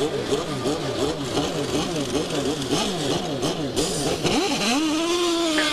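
An IndyCar engine at the 2000 Las Vegas Vegas Indy 300 revs in repeated rising and falling wails, near and loud, under a race commentator's voice, then settles into a steadier pitch.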